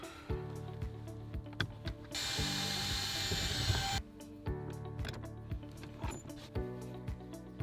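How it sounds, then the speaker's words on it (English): Ratchet clicking out a screw behind the rear seat side cover of a Subaru Crosstrek, close and crisp in short bursts of ticks, with a steady whirring stretch in the middle. "pop off these covers on each side, and you'll remove a screw on each side"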